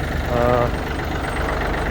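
Yanmar AF26 mini tractor with front loader, its small diesel engine idling steadily close by with a low, even rumble throughout.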